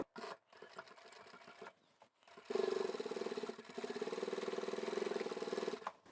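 A sewing machine stitches fabric for a large boho/hobo-style knitting bag, starting at the fold: a few short stop-start bursts, then a steady, close, continuous run of whirring motor and rapid needle clatter.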